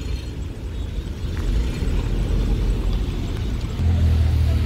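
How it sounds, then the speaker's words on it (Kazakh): Cars pulling out of the Jalal-Abad used-car market, a steady low engine rumble close by that swells louder near the end, with no voices. "кетип атат унаалар"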